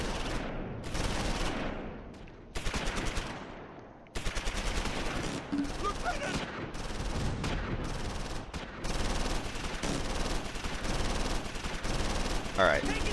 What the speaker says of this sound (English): And tons of bullets flying up north.